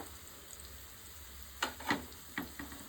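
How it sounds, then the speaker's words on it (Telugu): Masala sizzles in a pan for eggplant curry, with a soft steady frying hiss and a few louder stirring scrapes near the end. "ఇదంతా మంచిగా ఫ్రై చేసుకోవాలి."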